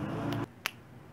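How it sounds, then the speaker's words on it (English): A single crisp finger snap rings out alone, sharp and close, just after a steady background sound cuts off, followed by quiet. "I'm gonna snap my fingers and it's gonna be built"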